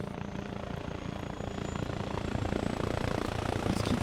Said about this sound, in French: Est-ce qui passe en hélico là